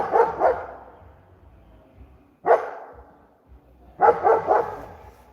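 A dog named Duke barks during a thunderstorm, with three bursts of loud, close barks: a double bark, a single bark and then a quick run of several barks, separated by quieter pauses.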